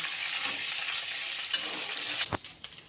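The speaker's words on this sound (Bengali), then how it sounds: "এর মধ্যে এখন আমি তেজপাতা, শুকনো লঙ্কা আর যেটা জিরে ফোড়ন দিয়ে দেবো" Bay leaf, dried chili and cumin seeds fry in hot oil with a bright, close, hissing sizzle that runs steadily, then breaks into scraping stir sounds and fades toward the end.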